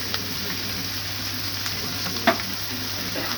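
Jackfruit pieces drop into a pan of fried onions, giving a steady close sizzle with a brief stirring clatter partway through; no voices.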